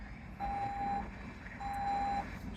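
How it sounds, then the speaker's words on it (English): A car warns that its fuel door is open at a charging or fuel station with two long, steady electronic beeps separated by a short gap over a low background hum. "Beeping at me because the fuel door is open."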